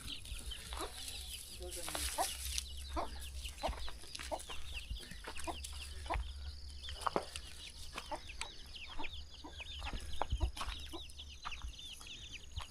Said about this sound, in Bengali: পাহাড়ি মুরগি।